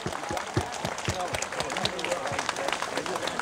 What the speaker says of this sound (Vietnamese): hãy cùng chúng ta hãy trao cho nhau một tràng pháo tay thật lớn, thật to, thật kêu và thật dài